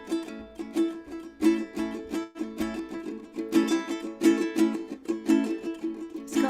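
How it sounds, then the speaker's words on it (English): Ukulele playing the syncopated Bo Diddley strum, crisp chord hits in a repeating shuffle pattern, close and clear with sharp attacks and short gaps, no voice over it. "The Bo Diddley strum."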